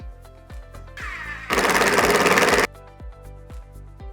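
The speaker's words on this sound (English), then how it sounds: "when we put our screws in, we're using a 5/16 impact driver" A 5/16 impact driver drives timber screws into a DIY bench seat, giving a loud, dense rattling hammer burst of about a second, preceded by a short whir, with light taps and knocks before and after.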